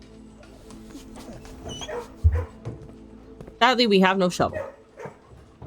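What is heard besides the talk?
puppy barking and whimpering in the kennel, from video game Blue Prince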